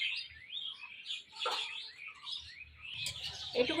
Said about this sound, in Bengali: কত পাখি ডাকতেছে